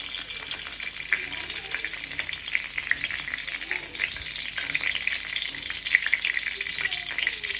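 Cardamom pods, cloves and broken cinnamon stick sizzle in hot oil for Kashmiri aloo dum, a dense, crackling fry heard up close with light stirring scrapes and no talking.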